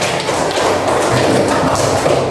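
Steady group clapping fills a classroom in praise of the second team: a thick, continuous patter of many hands, loud and near, with no talk over it.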